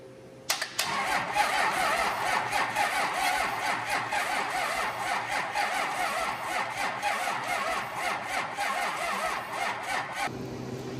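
A truck engine is cranked with a Matco jump box and churns in a fast, rhythmic starter cycle for about ten seconds without firing. The sound is close and loud and stops abruptly at the end.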